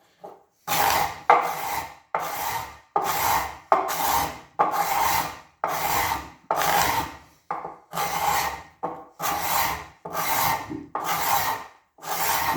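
A cheap hand scraping tool pushed across wood, peeling off shavings in about a dozen rhythmic rasping strokes, each a loud close scrape separated by brief pauses, with no voices.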